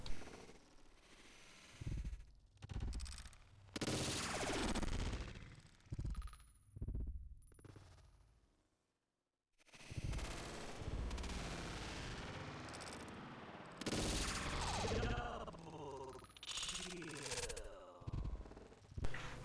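Sniper rifle shots fired one at a time in the Combat Arms video game, separate punchy reports spread across the stretch, with a short silent gap midway and a voice talking in places.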